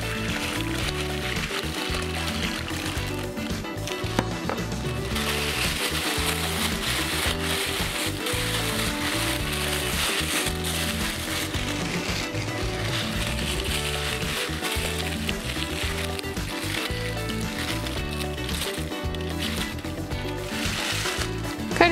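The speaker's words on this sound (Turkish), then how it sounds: "Şimdi sıcak suyumuzu ilave ediyorum." Hot water poured into a pot of raw chicken and rice that sizzles and bubbles steadily throughout, with stirring clatter.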